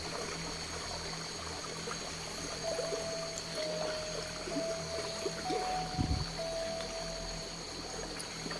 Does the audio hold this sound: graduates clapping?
no